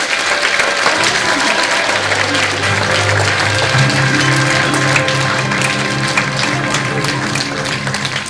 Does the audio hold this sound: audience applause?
yes